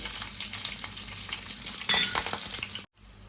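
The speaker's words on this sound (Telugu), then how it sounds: "ఆయిల్ అయితే వేసుకున్నానండి ఫ్రైకి సరిపడా ఇందులో సన్నగా కట్ చేసుకున్న వెల్లుల్లిపాయలండి అవి కొద్దిగా వేగనివ్వాలి" Thinly sliced garlic frying in oil for a coriander chicken fry, a close, steady crackling sizzle with a brief louder stir near the end before the sound cuts out.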